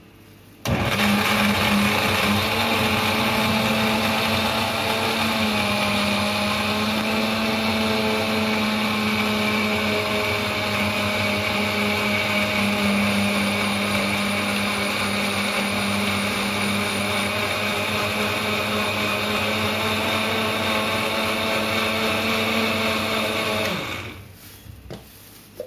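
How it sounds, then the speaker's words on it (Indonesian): An electric blender grinds turmeric for a jamu herbal drink, a loud steady motor whine running for over twenty seconds before winding down and stopping. "kita blender kunyitnya."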